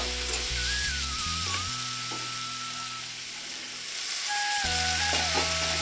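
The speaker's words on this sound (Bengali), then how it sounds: "তারপর একটু নাড়াচাড়া করে একটু ভেজে নেব।" Potatoes, boiled peas and paneer stir-fried in a pan give a steady sizzle with stirring scrapes, a softer dip midway, then a louder return; sustained tonal notes and hum from something else in the room sit alongside.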